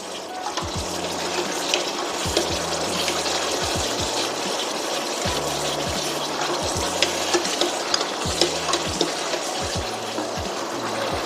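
Onions fry in a pan for pav bhaji with a steady hiss, while a spoon scrapes and stirs in repeated strokes, close and continuous.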